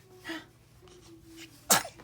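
A small, high-pitched baby sneeze bursts out sharply near the end, preceded by soft breathy sounds and quiet little vocal noises.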